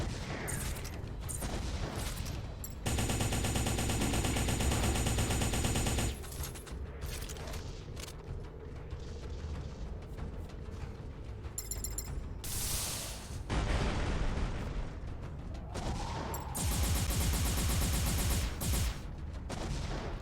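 A turret in the mech game M.A.S.S Builder fires in loud bursts of rapid gunfire, the volleys breaking off and starting again between stretches of clanking mechanical noise and quieter gaps.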